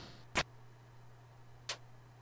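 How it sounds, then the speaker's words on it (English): Player death sound from the Deltarune video game: two short, sharp electronic bursts about a second apart over a faint steady hum, with no voices. "That was the sound of me dying."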